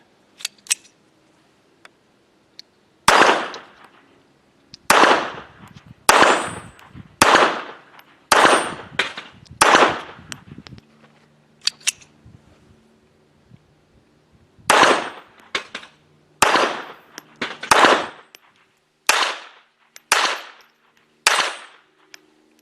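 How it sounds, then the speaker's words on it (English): A Jimenez JA-22 .22 pistol fires Golden Bullet rounds at a shooting range: loud, sharp, close reports come in two strings of about ten shots each, with short pauses and faint clicks between them and no talking. "So that's 3 magazines, no malfunctions on the Golden Bullet, which is actually pretty cool."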